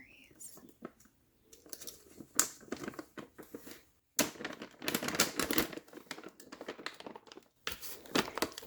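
Crinkly plastic bag of frozen blueberries being handled, with irregular rustling and crackling bursts, some loud, alongside soft-spoken talk.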